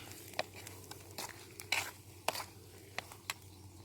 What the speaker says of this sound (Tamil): ஃபைனலாக ஒரு டச் கொடுத்து ஒரு மிக்ஸ் பண்ண வேண்டியதான்